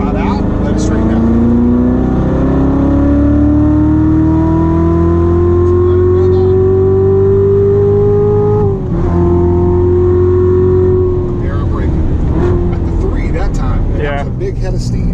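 A Corvette engine at full throttle on a race track, heard from inside the car: a loud droning roar climbing steadily in pitch, a brief dip at a gear change, then pulling hard again.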